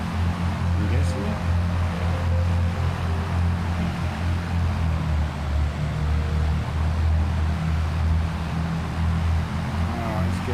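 A simulated Avro Lancaster's engines idle and taxi on a runway in a flight simulator, a loud, steady droning rumble that holds throughout with no break.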